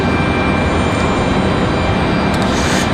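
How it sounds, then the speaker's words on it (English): An Air France airliner passes over Raleigh-Durham International Airport, a steady, loud broadband jet roar that holds constant throughout with no voices. "As we watch the Air France make its way over."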